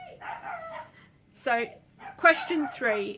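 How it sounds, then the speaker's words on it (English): Dogs bark a few times in a neighbour's back garden, a short burst of yaps and barks partway through, heard clearly under and between a person speaking nearby. "excuse the barking in the background, that would be the dogs in the back garden with the neighbours"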